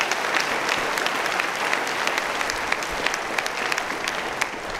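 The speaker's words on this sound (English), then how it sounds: "How about a hand of applause for Seaman Smith?" An audience applauds Seaman Smith at a Navy gathering with the Secretary of the Navy, a dense, steady wash of clapping from a roomful of people that holds evenly for several seconds.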